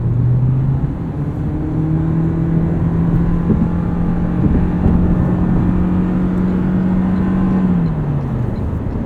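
A 2023 Toyota Prius Limited AWD accelerates hard in sport mode, a steady rising engine and electric whine droning loudly inside the cabin before easing off near the end, with road roar underneath.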